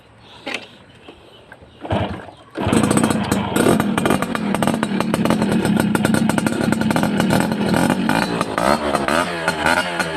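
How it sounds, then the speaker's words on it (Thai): A 1990s Yamaha Mate 111 motorcycle kicks over with a couple of short attempts, then its small engine starts and idles loudly and steadily close by with a rattly, buzzing tone and slight throttle blips. "ลองฟังเสียงเครื่องกันเลยฮะ"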